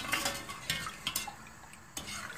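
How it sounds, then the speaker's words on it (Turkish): Metal spoon scraping and clinking against a pot of syrup for ekmek kadayıfı in short irregular strokes, with faint liquid sloshing, close by and fairly quiet. "Şimdi karıştırıyorum şerbetimi."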